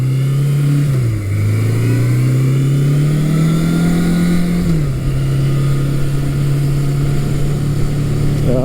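A 1982 Suzuki GS750E motorcycle engine pulls loudly and close up through the gears on a test ride after electrical work. Its pitch climbs, dips briefly at a gear change, and then rises again in a steady drone.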